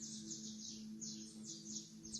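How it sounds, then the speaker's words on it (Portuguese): Birds sing in a steady series of high, bright chirps and short warbling phrases, moderately close, over a faint constant low hum with no talking. "ouvir o canto dos pássaros."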